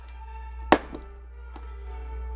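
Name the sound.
box cutter cutting cable on chopping block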